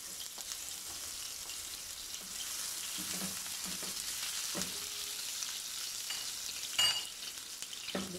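Onions and garlic frying in oil for a mashed potato bhurta give off a steady, close sizzle, broken by a few scrapes and clinks of stirring, with a brighter burst near the end and no talking.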